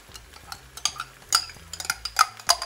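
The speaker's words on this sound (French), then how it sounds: "Je mélange." A spoon stirs a cream and mustard mixture into a reduced chicken sauce in a pan, giving soft wet scrapes and light clinks of utensil against cookware, close up and irregular with no talking.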